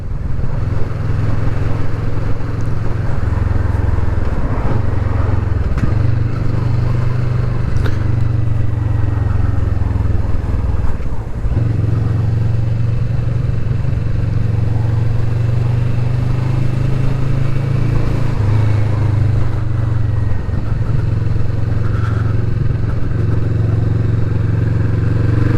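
Kawasaki Vulcan S Performance 2020 motorcycle engine on a test ride, a steady loud low drone with small shifts in pitch and wind rush, running continuously and close throughout.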